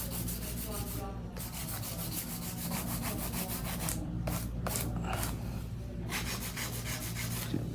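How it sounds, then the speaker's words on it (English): Fingernails being shaped with a hand-held nail file, heard up close as a dense, scratchy rubbing of quick repeated strokes that runs almost without a break, broken only by a few short lifts of the file. "I'm about to finish here with the hand filing because a lot of these are already smooth."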